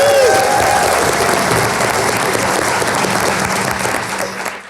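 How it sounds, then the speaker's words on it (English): An audience gives a big round of applause at a live stage show, steady dense clapping that fills the room and fades slightly at the end. "Big round of applause for Carolyn."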